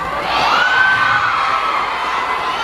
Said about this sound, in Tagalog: May narinig naman ako sumisigaw ng kiss.